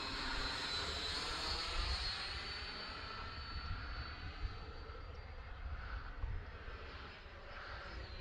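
A Freewing L-39 radio-controlled model jet passes overhead with a steady, rushing ducted-fan whine that holds at moderate loudness for several seconds, with no talking.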